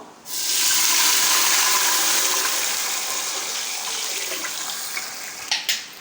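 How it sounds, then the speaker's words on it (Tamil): Water gushes steadily into a cooking pot, a full splashing pour that gradually softens, with a couple of small knocks at the end. "இப்போ இதில் வந்து நம்ம தண்ணி சேர்க்கலாம்"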